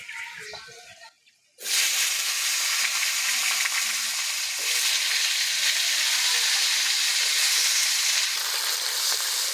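Cut potatoes, carrots and flat beans hit hot oil in a wok, bursting into a loud, continuous close sizzle after a short quiet moment, sustained steadily to the end.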